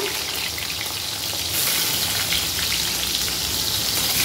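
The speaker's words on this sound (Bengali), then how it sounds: "পটলগুলোকে একে একে ছেড়ে দিলাম।" Pointed gourd (potol) pieces frying in hot oil in a Bengali home kitchen, a steady dense sizzle that swells louder midway and holds, close and continuous with no talking.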